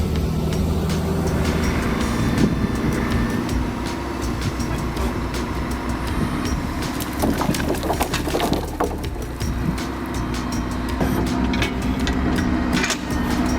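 A Mercedes Actros 500-horsepower truck with a 53 cubic meter load of wood drones steadily as it climbs rough terrain, a deep, sustained engine rumble with occasional rattles and knocks throughout.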